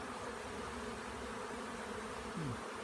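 A honeybee swarm hums steadily at a swarm trap in the center of Ivano-Frankivsk, a faint, continuous buzz lasting throughout with no voices.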